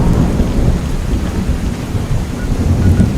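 Heavy rain and rumbling thunder fill a storm scene in the video game Fallout 3, played modded, a loud dense downpour with deep thunder rolling steadily throughout.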